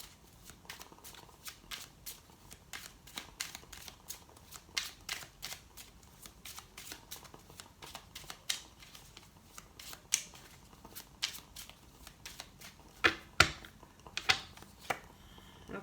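Tarot cards being shuffled by hand, a long run of quick crisp riffling and slapping bursts in an irregular rhythm, close and fairly quiet, with no talking.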